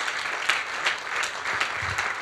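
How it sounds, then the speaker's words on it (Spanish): Congregation applauding in a church service, a steady wash of many hands clapping together with faint rhythmic accents, moderately close and continuing on its own without talk. "Denle un aplauso a Cristo Jesús."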